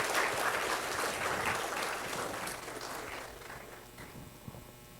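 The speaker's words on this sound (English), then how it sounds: "I think you should applaud for yourself," Applause from a crowd at a university commencement ceremony, many hands clapping in a full burst that gradually thins and fades, with a few isolated claps near the end.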